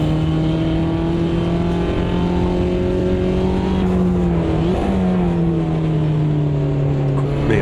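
A Mini race car engine in Automobilista 2 drones steadily at high revs, a constant loud tonal whine with slight pitch shifts through gear changes, running without pause for the whole stretch.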